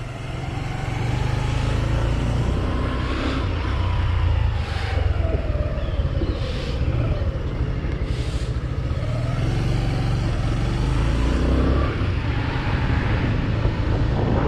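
Suzuki GSX125 motorcycle on its first ride, with a steady, loud engine drone and wind rush held throughout as the bike moves along, with no talk.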